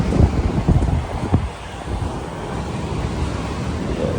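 Sea waves wash in at the shore in Dwarka, a rushing surge that fades into steady surf, mixed with gusts of wind buffeting the microphone.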